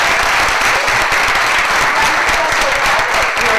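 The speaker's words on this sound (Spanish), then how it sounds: "Y un aplauso a nuestros invitados internacionales." Audience at an international conference on military bases in Colombia applauds its international guests, a dense, steady wash of clapping filling the room without pause.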